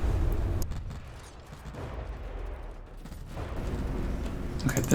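Naval guns in the From the Depths game boom over and over in a dense, continuous barrage during a live-fire test, with rumbling low-end blasts throughout.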